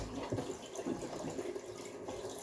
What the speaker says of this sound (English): I'm just gonna quickly fill this up with some hot water from